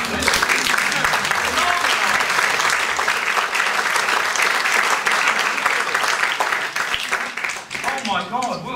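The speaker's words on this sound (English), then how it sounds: "Round of applause" A comedy-show audience in Edinburgh claps loudly and continuously in a dense, sustained round of applause that fills the room from start to finish, easing only slightly at the very end.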